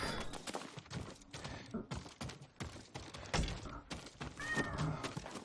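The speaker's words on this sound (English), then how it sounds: "Hear the cat meowing." A cat meows inside a lighthouse in the video game Ghost of Tsushima, mixed with dense game sounds and thumps, with a voice present.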